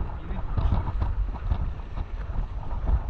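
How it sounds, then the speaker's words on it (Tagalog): Strong wind buffets the microphone in heavy, rumbling gusts, with faint voices underneath. "Lakas kasi yung hangin."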